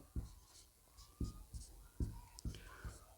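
Writing on a board during a maths lesson, a handful of distinct taps and strokes with short scratchy trails, quiet and close, separated by brief pauses.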